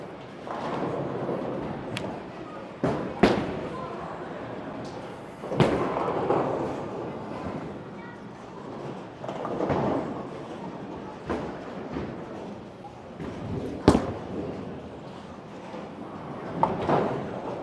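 At a bowling alley, a ball thrown straight at a spare rolls with a long, low rumble through busy ambience, broken by several sharp thuds and clatters of impact.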